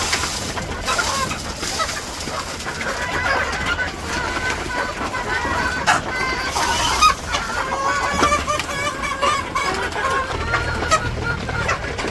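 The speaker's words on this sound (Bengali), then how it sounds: "ধরো এটা মুরগি ধরো" Chickens cluck continuously in a village yard, several birds close by with overlapping calls and a few louder squawks, with faint voices in the background.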